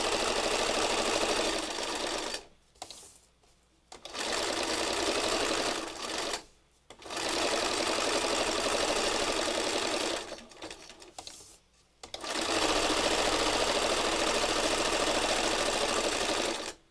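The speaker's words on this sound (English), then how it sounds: "This is intuitive sewing." A sewing machine runs in long, steady bursts as it stitches pieces of fabric together for a patchwork heart, stopping briefly for a few short pauses between runs, close and loud with no talking.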